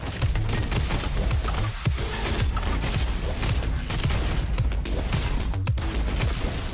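Pistol gunshots in a roguelike FPS video game, a loud rapid string of sharp shots and booms with crashing impacts, without talk.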